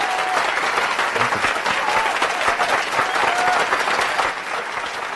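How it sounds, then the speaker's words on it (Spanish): An audience at an Ecuadorian political news forum applauds ex-minister Marco Flores, producing dense, sustained clapping that stays loud for several seconds and eases slightly near the end, with faint voices mixed in. "Aplausos para el exministro Marco Flores."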